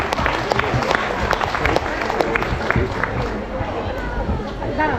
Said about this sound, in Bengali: আপনারা জোরে একটা হাততালি দিন।